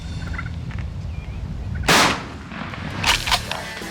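A shotgun fires during a turkey hunt, a single loud, sharp outdoor blast with a short echo, followed by fainter cracking sounds and turkeys gobbling against a background of rustling.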